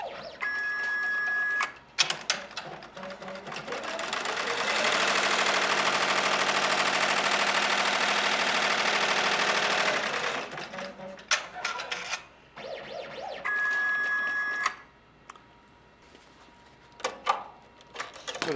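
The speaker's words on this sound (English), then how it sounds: "Simply hit start, and it'll now sew that placement stitch." A HappyJapan embroidery machine sews an applique placement stitch, a loud, close mechanical hammering whir that runs steadily for several seconds and then breaks into stop-start bursts with clicks and beeps.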